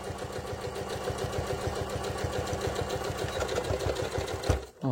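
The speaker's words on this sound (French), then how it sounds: "on va coudre quelques millimètres du bord" A sewing machine stitching a few millimetres from the fabric edge while making a cigarette case, a steady rapid mechanical whirr with a rhythmic needle patter, close up, stopping briefly near the end.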